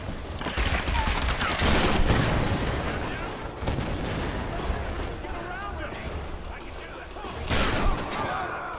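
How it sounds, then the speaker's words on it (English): Shotgun blasts in the Tomb Raider (2013) action game, loud heavy booms standing out amid continuous chaotic combat noise, with a player's voice talking over it. "we'll use something called shotgun"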